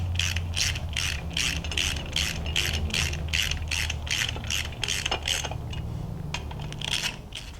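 Ratchet wrench tightening bolts on a supercharger pulley bracket for an LSA supercharger, a rapid even run of clicking pawl strokes close up that slows and breaks into a few separate clicks near the end.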